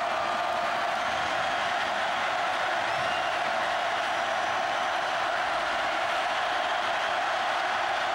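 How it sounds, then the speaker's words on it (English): Steady roar of a large football stadium crowd at an LSU home game against Auburn in 2005, a dense continuous wash of voices and cheering with no distinct breaks. "Now the bench at LSU asking the crowd to stand up and make more noise."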